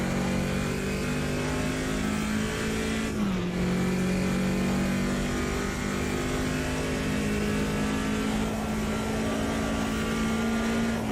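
Race car engine in Automobilista 2 on the historic Nürburgring Nordschleife, a loud continuous drone with a steady pitch that dips briefly around a gear change, then holds, with no talk over it.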